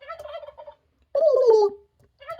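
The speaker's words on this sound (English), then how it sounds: "the turkeys that go gobble" Turkey gobbles played from a children's farm-animal sound book button: a few short rattling gobble bursts, close and clear, separated by brief silences.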